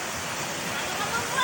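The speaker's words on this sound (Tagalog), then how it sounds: "Malakas sa talon doon, malakas." A strong waterfall on a nature outing roars with a steady, dense rush of falling water, loud and close, continuous for the whole moment without a break.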